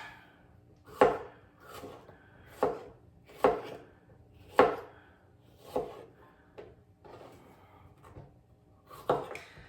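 A knife chops peppers on a cutting board in slow, uneven strokes, about a dozen distinct thuds spaced a second or so apart, close and fairly quiet.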